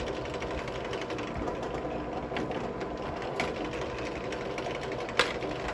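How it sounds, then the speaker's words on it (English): A steady, continuous whirring drone of a drill boring holes in small point stands for painting, with faint ticks and one brief click near the end. "get these holes drilled"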